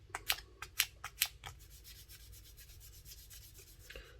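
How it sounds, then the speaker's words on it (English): Sandpaper rubs against the metal contacts of an old Hornby R751 Class 37 model locomotive, starting with a few sharp, close scraping strokes and then settling into a fainter, steady rasping. "we shall again use a little bit of sandpaper to clean up"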